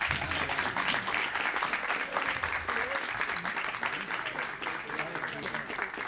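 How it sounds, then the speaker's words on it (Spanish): A crowd at a book presentation applauds in memory of President Carlos Prío, a steady, even wash of clapping from many hands, moderately distant and continuous throughout. "pido ahora un aplauso a la memoria del presidente Carlos Prío"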